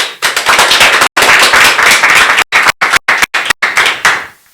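An audience claps loudly in close, uneven bursts, cut by several abrupt silent gaps before fading out at the end.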